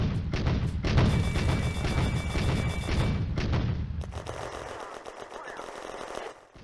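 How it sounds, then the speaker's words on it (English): Rapid bursts of machine-gun fire and heavy booming shots from a grenade launcher crackle through a World War II eastern front firefight game, dense and loud at first, then thinning to scattered distant reports. "The Granatwerfer joins in, targeting the unknown contact near the objective."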